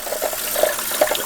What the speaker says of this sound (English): Now, you gotta let this water fill up here.